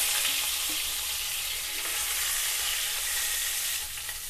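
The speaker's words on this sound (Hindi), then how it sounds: "इसी तेल में हम जो आलू काट कर रखे थे उसको भी फ्राई कर लेते हैं" Cut potatoes frying in hot oil, a dense, continuous sizzle and crackle heard up close, steady throughout with faint stirring and no voices.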